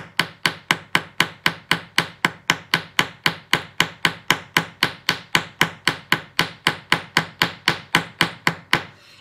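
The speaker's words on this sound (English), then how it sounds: "Hammer straight down on that rivet." A hammer strikes a metal rivet on earrings again and again at a steady, brisk pace, each sharp tap close and crisp, about three blows per second with no talking.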